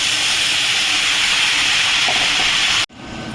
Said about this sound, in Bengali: এবার আমি এই মশলাটাকে ঢেলে দিচ্ছি।